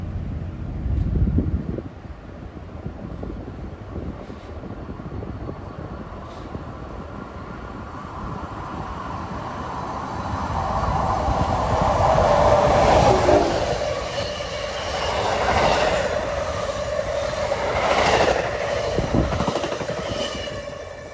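NJ Transit express train 3721 on the Northeast Corridor at Linden, running fast on track 4, approaching from afar and swelling to a loud rush of rolling wheels with squealing tones before fading slightly, no voices.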